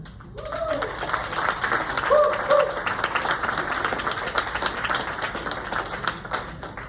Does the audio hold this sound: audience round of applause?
yes